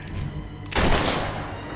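A gun fires in the video game Fable III: one heavy, booming blast that rolls into a long, fading rumble after a brief quiet lead-in.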